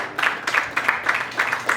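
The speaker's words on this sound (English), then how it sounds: "make some noise if you think Luke won this battle" A comedy roast battle audience applauds and cheers the winner, scattered rhythmic claps with crowd noise, moderately loud and brief.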